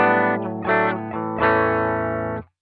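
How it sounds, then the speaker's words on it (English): A Telecaster tone, captured on a Mooer M701 and played through an Ibanez guitar, rings out as a few bright, sustained, slightly driven chords with effects, close and loud, then cuts off. "hopefully we'll hear the sound of a telly being played through the Ibanez"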